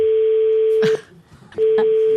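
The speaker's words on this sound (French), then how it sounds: "Première sonnerie pour Monsieur Brunel." An outgoing telephone call rings on the line during a radio show, a loud steady tone that stops briefly and resumes, with faint background noise in the gap.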